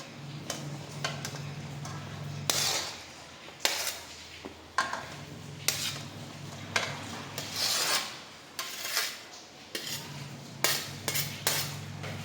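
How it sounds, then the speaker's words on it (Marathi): Boiled chana being mixed in a kadhai with cilantro, raw mango, tomato and onion: repeated scraping and rasping of a spoon against the metal pan, close and irregular, with occasional sharper clinks. "आणि व्यवस्थित आपण आता ते मिक्स करून घेणार आहोत"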